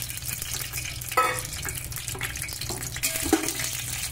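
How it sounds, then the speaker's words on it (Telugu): Peanuts fry in hot oil for a puffed rice mixture, giving a steady, close sizzle and crackle with occasional stirring clinks. "పల్లీలు వేస్తున్నా."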